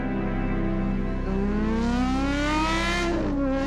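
The naturally aspirated engine of a Gordon Murray T.50 supercar screams loudly and steadily, its high, harmonic-rich note climbing in pitch as it revs, then dipping briefly near the end, with no talk.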